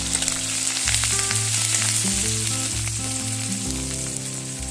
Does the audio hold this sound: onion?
yes